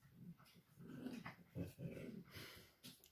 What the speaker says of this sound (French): les chiens qui font du bruit